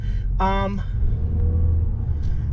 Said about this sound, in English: Driving the 2021 Mazda 6, this vehicle has a 4-cylinder engine with 187 horsepower